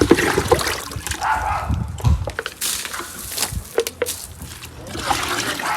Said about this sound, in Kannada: ನೀರು ಗಲೀಜೈತೆ, ಏನಕ್ಕಂದರೆ ಅದು ಮಣ್ಣೆಲ್ಲ ಬಿದ್ದು ಬಿದ್ದು ಆಗಿರೋದು